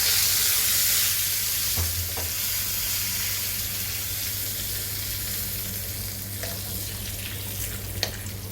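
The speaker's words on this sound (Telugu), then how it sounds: "తాలింపు ఫ్రై అయిన తర్వాత మనం ముందుగా రెడీ చేసుకున్న మజ్జిగ పులుసులో వేసుకోవాలి." Hot tempering with turmeric sizzles as it is poured into buttermilk stew (majjiga pulusu), making a loud, continuous frying hiss that settles slightly, with a few faint clinks and no talk.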